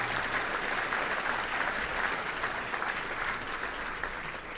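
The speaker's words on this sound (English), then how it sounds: "Let's give a round of applause to all those special guests here." Audience applause at a Little Rock Touchdown Club luncheon for special guests, a steady, full round of clapping sustained throughout at close range.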